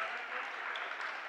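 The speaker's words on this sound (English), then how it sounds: "He gets a clapping ovation" A crowd claps steadily through the stands at a varsity boys high school basketball game, a dense, even wash of applause with a voice faintly audible beneath it.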